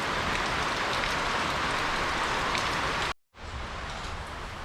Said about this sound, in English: If the rain clear up, we're gonna see you later